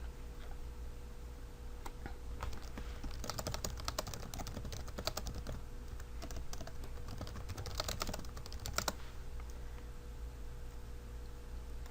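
Steady typing on a computer keyboard as a short caption is entered, with dense bursts of quick key clicks, brief pauses and a faint background hiss.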